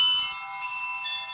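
A Bell Blossom rings in the video game Undertale, a bright chiming bell tone with sustained harmonic overtones that fades slowly after a sharp onset, heard alone without talk.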